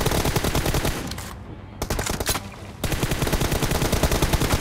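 Rapid automatic gunfire from a mobile shooter game during a 3v3 team deathmatch friendly, dense and loud bursts that briefly drop away twice before resuming steadily.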